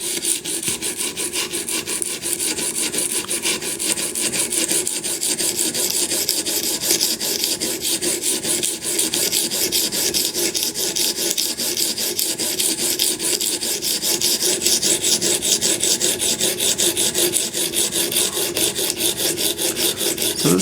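A knife edge is drawn over an Edge Pro Apex sharpening stone in a steady, rapid stream of close, loud rasping strokes that continue without pause, with no voices.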